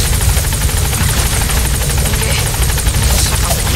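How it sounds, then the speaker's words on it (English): A helicopter in Metal Gear Solid 5: The Phantom Pain drones loudly and steadily, its rotor thumping in a constant fast chop throughout with no pauses. "Get on the chopper."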